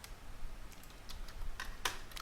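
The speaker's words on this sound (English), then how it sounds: "type your password for this account and confirm the same password here" Quick, light keystrokes on a computer keyboard as a password is entered, a short irregular run of close clicks with one sharper tap near the end, and no talking.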